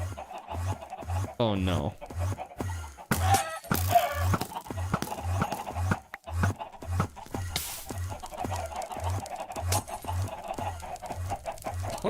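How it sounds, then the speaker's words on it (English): Chickens cluck repeatedly in the video game Minecraft, steady rhythmic clucks mixed with game sounds, while someone talks and exclaims over them. "I'm just getting pushed around by invisible chickens now."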